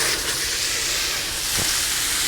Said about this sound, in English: you hear the sizzle? That's exactly what we want to hear.